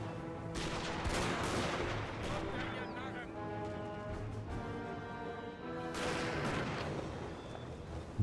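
Musket volleys crackle from massed infantry in a Napoleon Total War battle: a long rolling burst of gunfire near the start and a second volley near the end, over a dense, continuous game soundscape.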